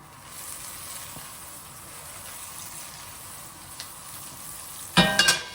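Butter and a garlic clove melt in hot oil in a pan with a soft, steady sizzle close by, a few small clicks, then a sharp louder clatter and spatter near the end, with no voices.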